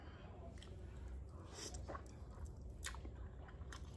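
Someone eating seasoned pork neckbones, with steady close wet chewing and biting sounds running continuously, with soft squishing and an occasional crunch over a constant background hum.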